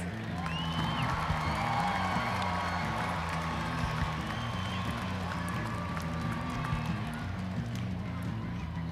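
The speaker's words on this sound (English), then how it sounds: "Let's give another warm round of applause to all of our float winners." A large crowd applauds and cheers steadily, a dense wash of clapping and whoops that carries on without a break.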